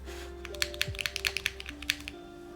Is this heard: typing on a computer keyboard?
yes